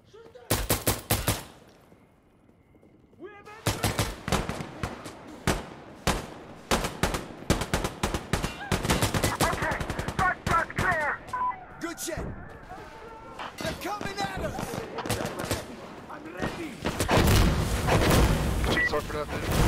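Rapid gunfire and machine-gun bursts from the shooter game Insurgency Sandstorm on the Trainyard map at night, loud and close, with dense volleys and brief pauses, while players talk over the shots.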